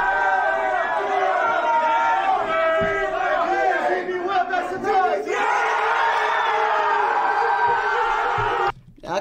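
A crowd at a rap battle roars and cheers, a dense mass of yelling voices and whoops that swells loudly, briefly dips, then carries on before cutting off near the end.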